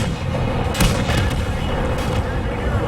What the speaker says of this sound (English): This poor KV-1 suddenly finds himself just surrounded by rapid fire guns.